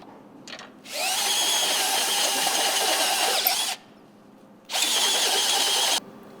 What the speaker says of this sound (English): install the unibit into a drill and begin drilling out the spindle